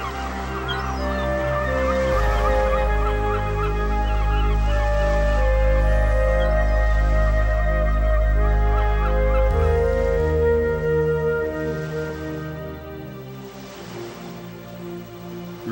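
Many seabirds call at once on Cocos Island, a dense chorus of overlapping honks and squawks, loud and close, over a low steady rumble that drops away near the end.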